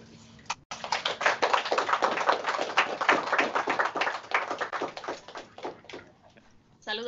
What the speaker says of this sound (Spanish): La recibimos con un aplauso, la doctora.